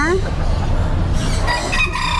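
A short-legged bantam rooster crows close by at a poultry market, one drawn-out call with clucking fowl and background noise around it.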